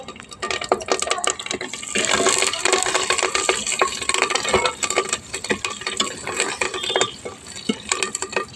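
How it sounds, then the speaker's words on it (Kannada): Curry leaves dropped into hot oil with browned onions in a cooking pot, giving a dense, steady crackling sizzle with clinks and stirring scrapes throughout. "ಈಗ ಕರಿಬೇವು ಹಾಕ್ತಾಯಿದ್ದೀನಿ."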